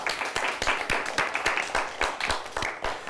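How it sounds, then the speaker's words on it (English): A quiz show studio audience claps for both teams, a modest group of people giving a rhythmic, fairly sparse round of applause at a steady level. "Let's give them both a nice round of applause."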